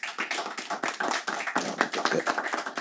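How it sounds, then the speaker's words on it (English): Applause from an audience at a panel discussion on domestic violence: a steady, dense patter of many hands clapping for almost three seconds, fairly close and with no talk over it. "Give them a round of applause."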